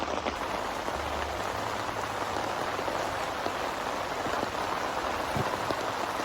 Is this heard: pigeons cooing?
no